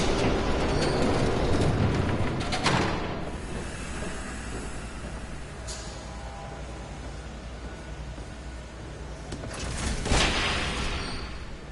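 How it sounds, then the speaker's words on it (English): A train approaches in the Batman Telltale video game: a sustained broadband rumble and hiss fills the scene, easing slightly midway and then swelling again near the end, with no voices. "There's a train coming."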